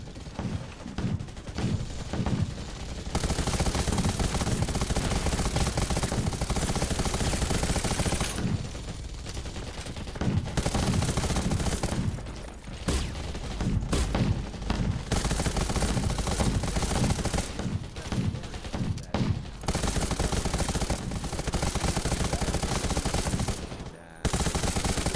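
Dense gunfire from the mobile shooter Undawn, with rapid automatic bursts that run almost continuously and break off in brief gaps, loud and close throughout.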